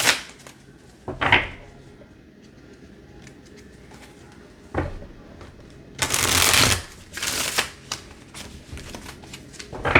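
Oracle cards are shuffled in several loud riffling bursts, close and crisp, separated by quieter pauses, the longest burst near the end.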